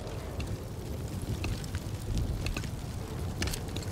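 A loud explosion in the video game Spider-Man Miles Morales gives way to a sustained, dense roar of rumbling debris with scattered crackles and pops throughout, and no voices over it.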